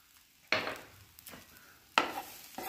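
Masala of coriander powder, Kashmiri deghi chilli, turmeric and salt frying in oil for a soyabean sabzi, with a spoon stirring and scraping the pan in two sharp strokes over a soft sizzle.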